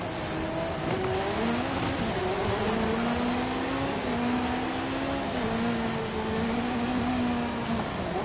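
A race car's engine revs continuously in a driving video game, a loud, steady high-pitched drone whose pitch climbs and drops with gear changes and throttle, alone with no talk.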